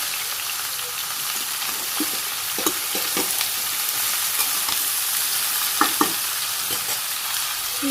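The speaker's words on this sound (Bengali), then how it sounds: "সবজিটা এখন কষিয়ে নিই" Vegetables and green chilies sauté in hot oil in a Bangladeshi village kitchen, a steady close sizzle broken by a few sharp spoon-scrape clicks as the pan is stirred, with no voices.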